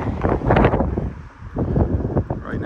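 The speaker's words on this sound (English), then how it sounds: "But this wind is not helping. It is fanning the flames out there." Strong wind gusts buffet the microphone near a brush fire threatening homes in Golden Gate, Florida, a loud, rough rush that rises and falls.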